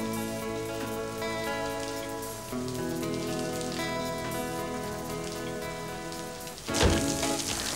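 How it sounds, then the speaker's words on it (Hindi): Steady rain pours down through a monsoon scene, with a heavy wash of background music layered over the downpour. "बारिश में भीगना बहुत अच्छा लगता है।"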